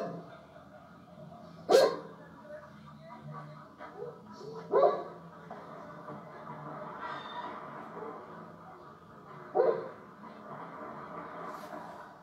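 A few dogs bark in the distance, three sharp bursts spaced several seconds apart over a faint background murmur.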